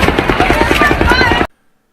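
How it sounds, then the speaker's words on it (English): Rapid bursts of rifle fire echo from a distance at a Las Vegas shooting scene, a dense rumbling volley of reports lasting about one and a half seconds before cutting off abruptly into silence. "in the distance you can hear the rumble, the low frequency sounds of the rifle reports"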